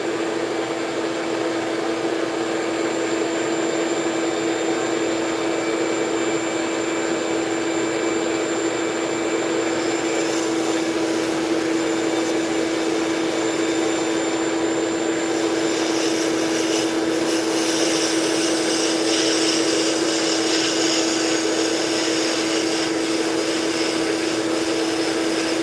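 A loud, steady motorized whine runs throughout, shifting pitch partway through as a power drill bores into material.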